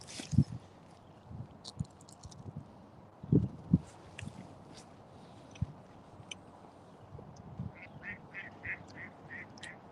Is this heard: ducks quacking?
yes